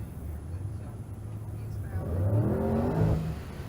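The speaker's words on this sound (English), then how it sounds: "Here's Felicia Smith, the four-door Rocket, yet to make a good pass here at State Capitol Raceway with the supercharged CTSV." A supercharged Cadillac CTS-V drag car at State Capitol Raceway rumbles at idle, then its engine swells into a loud, rising roar as it launches, with low harmonics climbing for a couple of seconds.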